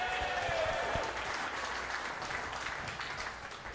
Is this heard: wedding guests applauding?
yes